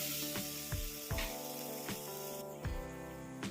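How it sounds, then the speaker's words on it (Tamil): Tomatoes and curry leaves sauté in a hot pan with a steady close sizzle and hiss, broken by several dull knocks of a spatula stirring against the pan. "நல்லா வதங்கி வரட்டும்"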